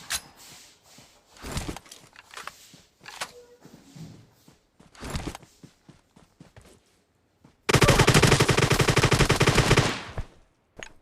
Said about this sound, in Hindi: क्रोजा का बहुत गंदा फायर दिया इसने मेरे पे